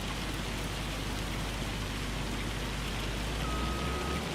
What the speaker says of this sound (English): It's not going to rain all day